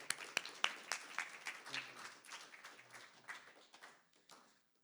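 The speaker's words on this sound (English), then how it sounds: "I want to get you to give a nice, warm round of applause for Jake Ivany from IATSE 849" An audience at a film industry information session gives a short round of applause, scattered claps that thin out and stop within a few seconds, faint and somewhat distant.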